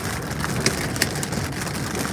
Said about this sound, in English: It's got sporadic, very light hail here occurring right now.